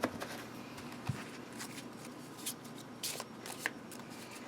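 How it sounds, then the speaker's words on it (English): An oracle card deck is shuffled by hand nearby, a series of quick riffling, papery bursts and soft taps in an uneven rhythm, quiet and without speech. "Just give it a couple shuffles here."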